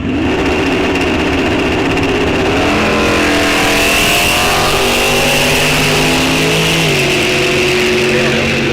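Bracket drag cars at Rock Falls Raceway launching and running down the strip, a loud sustained engine roar with rising revs and shifting pitch, steady throughout under faint background noise.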